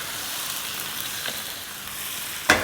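Chicken frying in a pan with onions, ginger and garlic for a tawa BBQ dish, a steady soft sizzle running throughout with a sharp clatter near the end.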